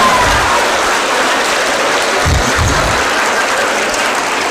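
A crowd at a speech event in Karimnagar applauds in a loud, steady wash of clapping that fills the whole stretch, with a few low thumps underneath.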